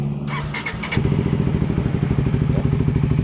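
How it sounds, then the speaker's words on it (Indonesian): A starter whirs for a moment, then a Kawasaki Ninja Mono motorcycle engine catches and settles into a loud, steady, close idle. "motor bisa dihidupin secara normal"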